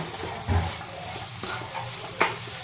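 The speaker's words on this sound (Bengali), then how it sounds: "এটা আর দু থেকে তিন মিনিট নাড়বো নাবিয়ে নেব" A spoon stirs a radish and lentil-dumpling curry in a pan, giving soft intermittent scrapes and a few knocks against the metal over a low, quiet sizzle, close up with no talking.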